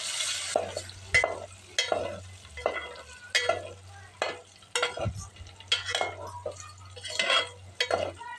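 Eggs fry in oil with turmeric in a pan, a soft sizzle broken by repeated scraping strokes of a spatula against the pan, moderately quiet.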